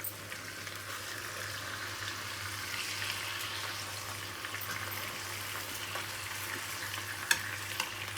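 Fish slices fry in a pan with a steady, soft sizzle and faint crackle, a continuous hiss at low volume with a low hum beneath and no talking.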